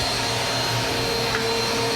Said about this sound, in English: I've pretty much done all the vacuuming I really want to do